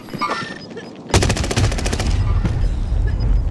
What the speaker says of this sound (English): Where did those shots come from?